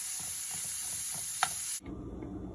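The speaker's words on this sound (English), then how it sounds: "Once your vegetables have sauteed for about 5 minutes, add a little salt and pepper to taste." Vegetables sauteing in a pan give a steady, close sizzle with a single sharp stir clack, then the sound shifts abruptly to a lower, duller frying rumble near the end.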